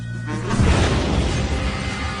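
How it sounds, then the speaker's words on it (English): A car bomb explodes in a parking lot: a sudden loud, low blast that stays near and rumbling, with crashing debris spreading across the whole clip. "The explosion hurtled Nardi through his open door and slammed him against the opposite window."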